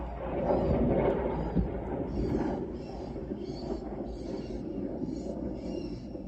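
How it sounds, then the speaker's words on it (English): Thunder from a lightning storm in Prince George, Virginia, rolls as a low, heavy rumble that swells early and then fades, while a bird chirps in short repeated bursts over it. "That thunder sounds like a jet."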